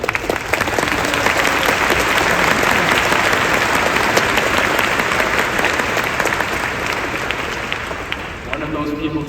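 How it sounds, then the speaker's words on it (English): Loud, dense applause from a large crowd at a university commencement ceremony in Texas, a sustained roar of clapping that fills the space and tapers slightly near the end, with voices blended in. "Can we give a round of applause for us?"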